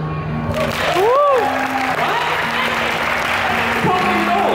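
Audience at a busker show during the Sentosa Buskers Festival applauding, a dense burst of clapping heard close with a few whistle-like tones and a voice over it.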